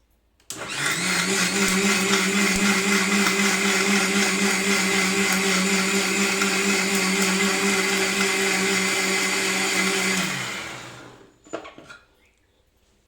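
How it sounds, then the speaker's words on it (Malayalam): A mixer grinder blends tender coconut flesh with sugar and milk into a shake, a loud, steady whirring motor for about ten seconds that winds down and stops, followed by a brief clatter. "ഇളനീർ ഷേക്ക് ഉണ്ടാക്കാൻ ഇനി നമുക്ക് മിക്സിയിലേക്ക് ഈ ഇളനീര് ഇട്ട് കൊടുക്കാം"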